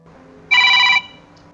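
A mobile phone rings once, a short bright electronic tone burst of about half a second, fairly loud against a quiet room with no talk.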